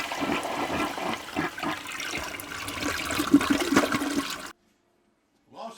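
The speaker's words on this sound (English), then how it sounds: "You're just going to keep draining these things until they run basically clear." Water rushes and drains steadily from rinsed chili ingredients for several seconds, a loud continuous gushing that stops abruptly, followed by a short faint trickle.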